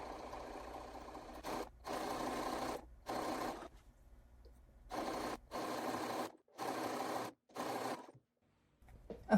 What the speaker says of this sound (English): We're going to sew straight down that seam at our scant 1/4 inch, just like we've done before.